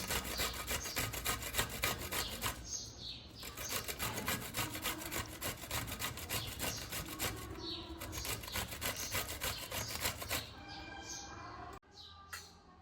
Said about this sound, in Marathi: दोडके आपल्याला बारीक अशी किसायचे आहेत